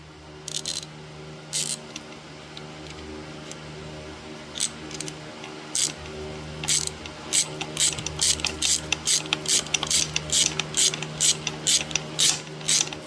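A chain breaker tool driving a pin out of a dirt bike chain gives sharp ratcheting clicks, sparse at first, then a fast regular run of close clicks as the tool is turned.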